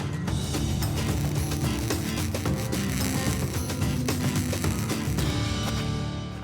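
Frames get bolted in place on a gold mining plant's conveyor, loud close ratchet clicking in quick runs over heavy machinery rumble.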